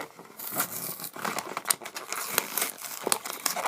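Plastic and cardboard packing on a Polly Pocket toy crinkles and tears as it is pulled open close up, with irregular crackles and sharp rips and no talking over it.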